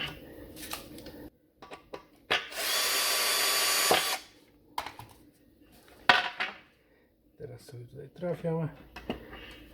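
Power drill driving screws into a wooden oak or beech bed during assembly, a loud sustained whir of about two seconds plus shorter bursts, with people talking between the runs.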